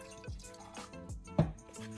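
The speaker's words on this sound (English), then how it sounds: "Pour acetone into the cup slowly." Acetone trickling slowly into a cup, heard as soft liquid drips and splashes with a small clink, faint and close, no talking.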